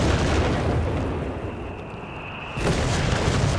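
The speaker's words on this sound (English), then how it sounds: "So much artillery there." Artillery shells exploding in Company of Heroes 3, a World War II strategy game: dense, rumbling battlefield blasts that fade slightly and then surge again with a fresh loud burst, with no voices.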